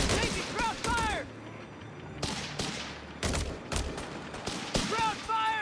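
Heavy gunfire rattles through a war video game battle, bursts of rifle and machine-gun shots with loud cracks and echoing blasts, while soldiers shout urgently over the din.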